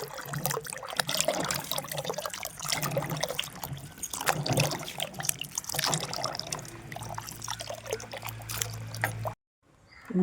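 Water sloshes and splashes continuously as turmeric is rubbed and rinsed in a bucket of water, ending abruptly.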